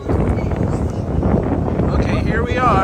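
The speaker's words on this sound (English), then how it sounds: "Oh, this is really windy here." Strong wind at a beach buffets the microphone with a loud, constant rushing roar, and a voice is faintly heard beneath it.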